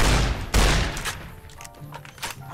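Rapid bursts of gunfire ring out in a Fallout: New Vegas hardcore-mode firefight. Several loud, close shots come in quick succession and then trail off into scattered, fainter reports.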